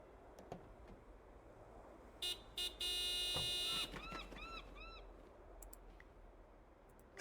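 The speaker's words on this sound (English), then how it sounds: "you honk the horn again?" A car horn in the Broken Sword 5 video game honks in a few short blasts and then one longer sustained blare, over faint ambient background with no talking.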